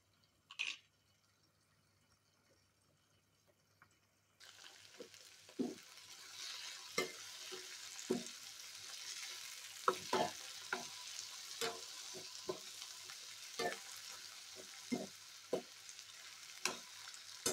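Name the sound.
stirring brinjal fry in a pan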